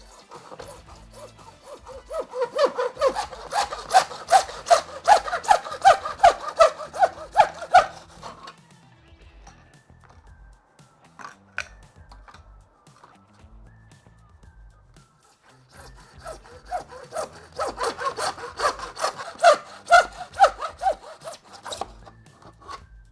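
A hand saw cuts through plastic pool pipe held in a jig, rapid rhythmic rasping strokes in two bursts separated by a quieter pause with light handling noises.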